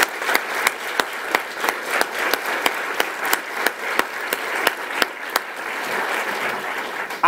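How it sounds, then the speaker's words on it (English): Audience applause fills the room, dense steady clapping with sharp individual claps standing out, sustained at a fairly loud level throughout without speech. "let's give Sammy a big round of applause"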